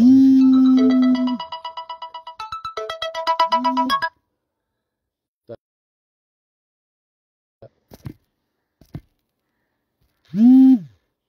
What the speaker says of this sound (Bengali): একটা ফোন এসেছিল, কেটে গিয়েছিল